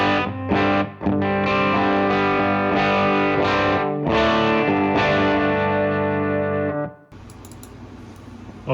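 Clean electric guitar with compression, heard through a cabinet impulse response, rings out in bright sustained chords with a few sharp pauses, loud and close, then cuts off into a thin, noisy tail.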